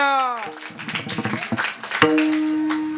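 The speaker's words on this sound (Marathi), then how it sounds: "वाजवा टाळ्या" An audience at a Marathi devotional kirtan performance claps in a brief, scattered burst lasting about a second and a half, framed by sustained voices before and after.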